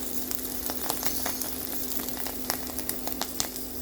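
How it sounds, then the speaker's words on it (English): Mushrooms frying in a pan for a beef stir-fry egg noodle dish, a steady close sizzle with scattered crackles and pops, no voices. "let's fry first our mushroom"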